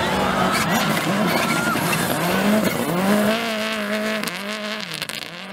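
A Subaru Impreza WRX STI rally car in Jamaica revs hard through gear changes, its engine note climbing and dropping loudly with tire squeal, while voices faintly sound underneath.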